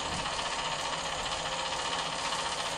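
A Lexus Toyota hybrid transmission spinning up on a test rig, giving a steady, dense mechanical whir and hum with faint rattling vibration, loud and constant throughout with no voices.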